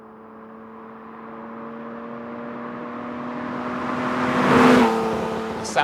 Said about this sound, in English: The sound of the car with just the velocity stacks, you can actually hear the sucking in of the air combined with the exhaust.